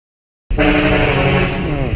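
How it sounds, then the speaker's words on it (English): A truck roars to life on a street in District 7, Ho Chi Minh City, Vietnam, bursting in abruptly after a short silence and holding a loud, steady, rumbling drone close by. "some idiot with a bloody truck trying to make a incredible noise"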